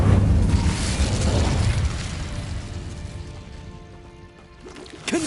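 The Incendio fire spell in Hogwarts Legacy goes off as a loud, fiery burst that trails into a softer, crackling rumble. A sharp pop breaks in near the end.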